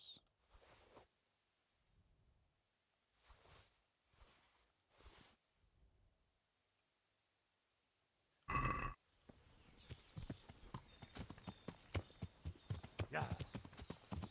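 Short bursts of talk come first, then a loud thump and a run of hollow horse hoof clip-clops in the video game Kingdom Come: Deliverance, rapid and fairly close.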